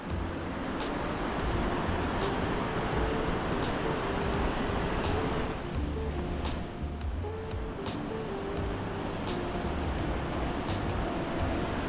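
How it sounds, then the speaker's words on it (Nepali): The Karnali river rushes in a steady, dense roar of flowing water that holds at an even loudness throughout, broad and close with no pauses and no one speaking. "यो चाहिँ कर्णाली खोला।"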